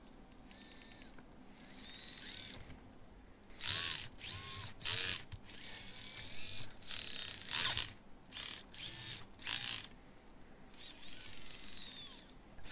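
Furitek Cedar brushless motor with a Python Pro ESC in an RC vehicle, revved in repeated bursts under throttle, giving a high-pitched whine that rises and cuts off in quick pulses, close and loud against near silence.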